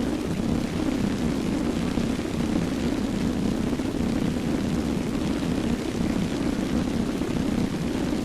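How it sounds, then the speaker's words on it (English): A ground attack plane's engine in a combat video game: an unbroken droning roar, steady and loud for the whole stretch without pauses. "here's a fighter down here, or that ground attack plane"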